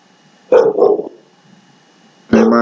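A dog barks twice in short bursts, then pauses and barks again, loud and near in an otherwise quiet room.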